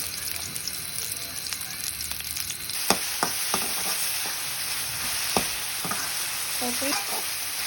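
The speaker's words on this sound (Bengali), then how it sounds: "চনা বুট বাজি করতেছি এখন" Boiled chickpeas frying and being stirred in a pan, a steady sizzle broken by several sharp scrapes and clinks of the spoon against the metal, close and fairly loud.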